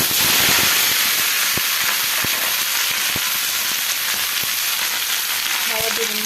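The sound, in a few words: onion and ivy gourd frying in a pan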